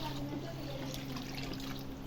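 Tamarind broth pours into a pan of frying fish for chapala pulusu, a soft steady liquid rush with faint bubbling, close and brief.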